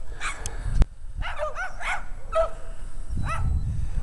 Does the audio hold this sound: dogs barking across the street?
yes